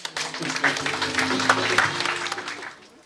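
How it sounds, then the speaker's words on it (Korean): An audience at a lecture on Confucian education claps together in a short burst of applause that swells briefly and then fades out within a few seconds. "박수 한번 보내주세요"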